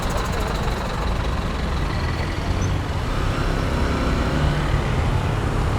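Buses, trucks and a taxi rumble past a Honda XR150L motorbike filtering through traffic on the road from Puerto Escondido to Mazunte, a steady loud roar of engines and road noise with wind throughout.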